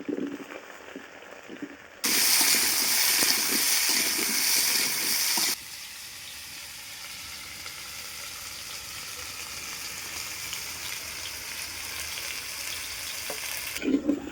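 Vegetables such as potato, pumpkin and pointed gourd sizzle loudly in oil for a vegetable khichdi, with a sudden burst of frying that drops to a lower steady crackle with occasional scraping from stirring in the pan.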